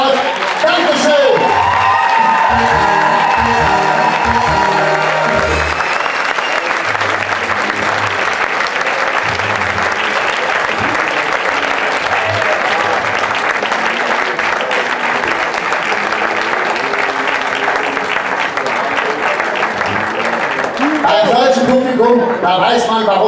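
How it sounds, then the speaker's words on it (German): A stage-show audience gives long, loud applause with some cheering and whoops. The clapping opens under a booming announcer's voice and music, then settles into a sustained roar, and voices come back near the end. "die Frösche sagen euch jetzt mal schön mit einem Applaus"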